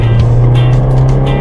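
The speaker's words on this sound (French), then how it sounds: "Ça les gars, c'est le moteur" A car engine, a 1.4-litre of 75 horsepower, hums in a steady low drone with a constant pitch and faint hiss bursts on top, recorded close from inside the car.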